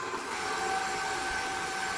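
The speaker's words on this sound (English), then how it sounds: "we're gonna keep mixing this until it's a somewhat fluffy consistency" Electric mixer whirring steadily as it beats cookie batter in a bowl, a continuous close motor hum with a high whine and no breaks.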